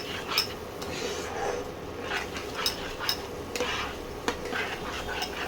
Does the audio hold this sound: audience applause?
no